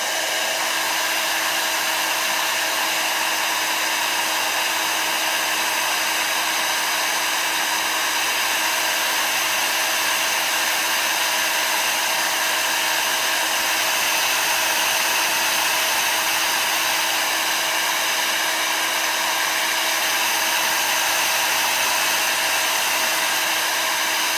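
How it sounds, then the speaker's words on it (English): An old Marvy heat gun blows hot air in a continuous, close, loud whooshing roar with a steady motor whine that holds unchanged throughout. "This is just a heat gun by Marvy."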